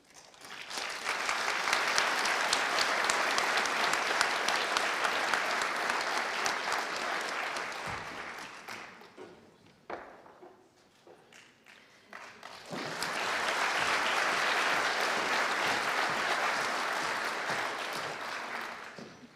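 Audience applause at a university conferring ceremony, two long sustained bursts of dense clapping from a large hall, separated by a brief quieter gap with faint voices before the clapping swells again.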